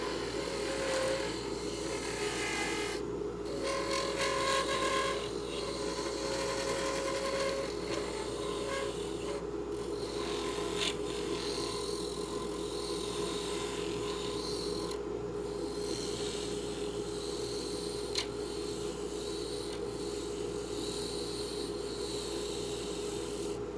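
A scraper is held against wooden beads spinning on a lathe, producing a steady, close rasping scrape over the constant hum of the machine. The sound runs unbroken, with brief dips in the scraping.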